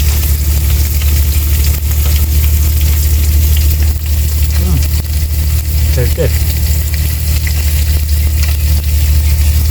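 Fresh river fish frying in hot oil outdoors, a loud continuous sizzle over a low rumbling background, with a few brief faint voice-like sounds.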